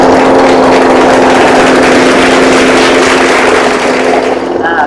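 Loud petrol lawn mower engine running steadily up close, a constant buzzing drone with a strong hum that holds throughout.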